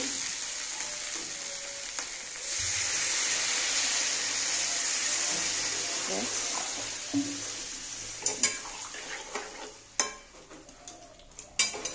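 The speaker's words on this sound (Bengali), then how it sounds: "দেখো কষানো হয়ে গেছে, এবার আমি একটু জল দিয়ে দেব।" Water poured into a pan of sizzling soybean and potato curry sets off a loud, surging hiss that settles into steady frying, then gives way to scattered sharp clinks of a spoon against the pan.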